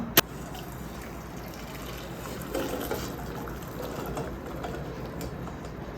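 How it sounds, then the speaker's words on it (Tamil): Cooking water drains off boiled chickpeas for channa masala in a steady, soft, close pour. A brief sharp click sounds at the start. "இப்போ நம்ம இதிலேருந்து தண்ணியை ட்ரைன் பண்ணிடலாம்."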